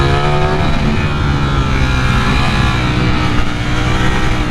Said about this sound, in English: Listen to that V4 when you get up in the revs.